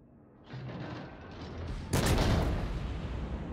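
Naval guns firing in World of Warships, with the Japanese cruiser Azuma in play; a rumbling bed of battle noise steps up into a loud, sharp salvo blast that rolls on and stays dense.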